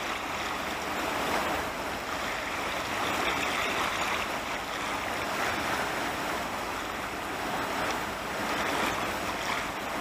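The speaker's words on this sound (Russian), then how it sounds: "Река Алдан." Rushing water of the Aldan River during a ferry crossing, a continuous broadband wash mixed with wind buffeting the microphone, steady and loud without voices.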